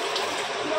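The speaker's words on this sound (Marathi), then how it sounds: "तिकडचा नळ चालू कर गौरांश." Water runs from a household tap in a steady, fairly soft hiss of flowing water, brief and uninterrupted, with no voices.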